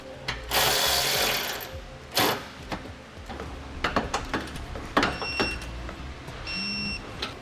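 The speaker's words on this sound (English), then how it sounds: "And we can get everything snugged and torqued down." A ratchet wrench tightens the carriage bolts of a CURT Class III trailer hitch on a 2018 Mitsubishi Outlander, giving close bursts of rapid clicking and scattered metallic taps and clanks.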